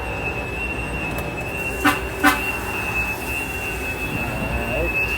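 A horn sounds twice in quick succession over a steady rumbling background of rail traffic, the two short blasts distinct but not very loud.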